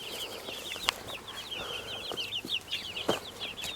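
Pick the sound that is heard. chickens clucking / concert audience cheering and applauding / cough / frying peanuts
chickens clucking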